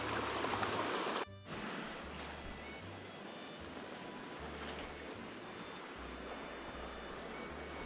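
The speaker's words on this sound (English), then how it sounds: "Good looking section of river right here." A section of trout river flows with a steady, broad rushing wash, moderately distant and even throughout, with a brief dropout early on and no talk.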